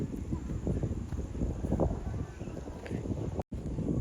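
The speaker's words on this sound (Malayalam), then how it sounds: "കാറ്റുണ്ട് കേട്ടോ അവിടെ, നല്ല രസമുണ്ട്" Wind blows steadily at Meenkara dam in Palakkad, a broad low rushing roar buffeting the microphone throughout, with a brief dropout near the end.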